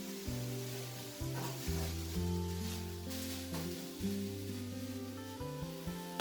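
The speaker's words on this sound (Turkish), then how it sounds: "Şimdi ben ocaktan kavurduğum kıymayı alıyorum." Ground meat browning in a pan on the stovetop for su böreği, a steady close sizzle and frying crackle with the occasional stir or scrape, under faint background music.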